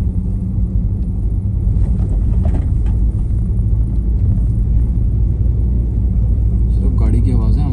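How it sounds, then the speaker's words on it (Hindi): Safari vehicle engine rumbling steadily at night in the Jim Corbett jungle, a loud continuous low drone throughout, with a voice talking over it. "सब गाड़ी की आवाज है हमारी"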